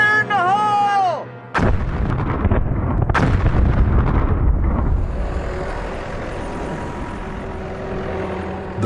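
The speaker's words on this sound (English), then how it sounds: "begin with a set of relatively small charges. Fire in the hole!" Small explosive charges blast rock at a dinosaur fossil dig: two heavy, booming detonations in close succession, each followed by a long rumbling wash of falling debris and echo.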